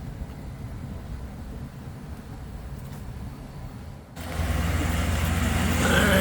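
Hydraulic leveling jacks on a 2018 Jayco Precept RV, a four-point automatic system, start up partway through as a loud steady pump drone with a low hum, replacing quieter background rumble and holding to the end.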